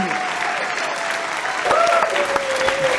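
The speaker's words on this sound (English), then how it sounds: "Great round of applause" Audience applause breaks out after a live song on a variety show, a steady wash of clapping with a held tone ringing over it, growing slightly louder near the end.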